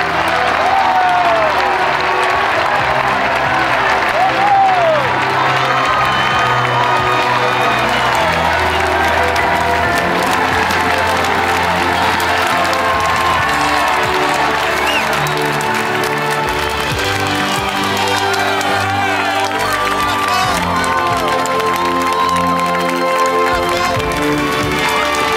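Large outdoor crowd applauding steadily for the arrival of French explorer Nicolas Vanier after a four-month sled-dog journey across the Canadian far north, dense continuous clapping mixed with scattered cheers, shouts and whoops throughout.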